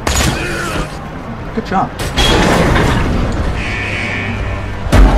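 Gunfire in Tales from the Borderlands comes as a few heavy, booming shots spaced apart, with mechanical clatter between them and a final loud blast near the end. People talk throughout.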